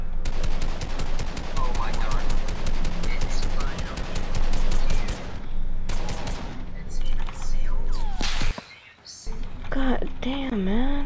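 Rapid automatic gunfire crackles in a mouse-and-keyboard shooter match, with long bursts of closely spaced shots for several seconds. The firing then breaks into scattered, louder effects and a warbling tone, with a player talking at times.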